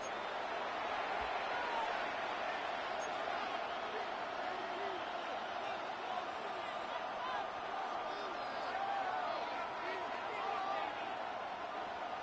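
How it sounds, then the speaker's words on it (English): Steady roar of a stadium crowd in a Madden football video game, a dense continuous wash of cheering and noise filling the whole clip, with a commentator talking over it. "The crowd making their presence felt."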